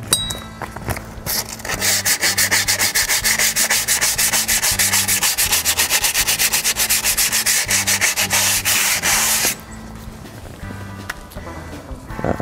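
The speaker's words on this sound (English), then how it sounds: "is a bit like sandpaper. You just basically rub over the edges." Abrasive paper rubs quickly back and forth over the edges of a car's drum brake shoe, a loud, close, rhythmic scraping that runs steadily for about nine seconds, then drops to quieter handling noise.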